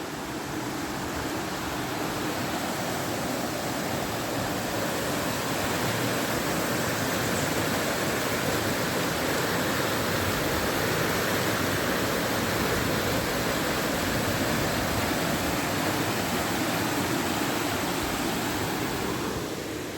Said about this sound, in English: we're going to get a little view of the river and listen to the sounds of it